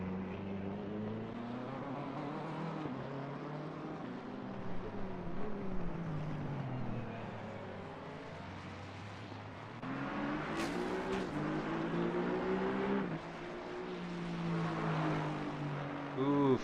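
A BMW race car engine in a sim racing game drones and shifts pitch continuously, with revving rises and gear changes, under occasional commentary speech.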